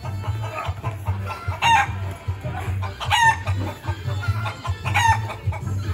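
A chicken sound effect repeats over and over, with loud clucking and crowing calls in a steady cycle over a low background hum, laid over footage of a fight on Father's Day in Pasco, Washington.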